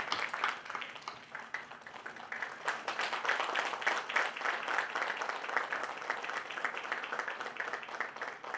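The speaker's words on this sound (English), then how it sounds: "please welcome ma'am with a resounding applause and a standing ovation," An audience at an event honouring a former Delhi High Court judge breaks into sustained applause, a dense wash of clapping that builds and holds steady at moderate volume for several seconds.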